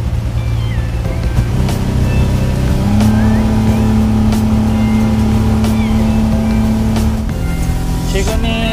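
A speedboat engine runs hard at about 5000 RPM, cruising near 50 km/h on the sea, a loud, steady droning roar that shifts pitch slightly midway, with water rushing past the hull.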